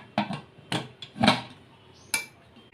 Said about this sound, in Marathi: आता कुकरचं झाकण लावून घेऊया